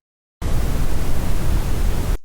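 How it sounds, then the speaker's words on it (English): Brown noise generated in an audio editor, a deep, rumbling steady hiss weighted toward the bass, starting suddenly after a short silence and holding evenly for nearly two seconds before a quick fade. "we'll have some brown noise, which is different again."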